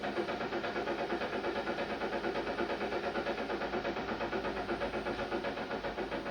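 A Tesla Model 3 drive unit motor runs under throttle on a test bench, giving a steady, even, pulsing hum at moderate level with no speech.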